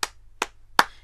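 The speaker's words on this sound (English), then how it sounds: "Can you clap your hands?" Three sharp hand claps ring out, evenly spaced about 0.4 seconds apart and close to the microphone, with a short ring after each and no talking.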